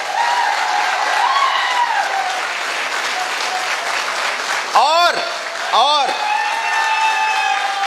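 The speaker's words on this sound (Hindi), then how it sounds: "एक बार जोरदार तालियां होनी चाहिए।" An audience gives loud, continuous applause for a company CEO at a corporate celebration. A voice talks over the clapping, and two swooping electronic sound effects cut in near the end.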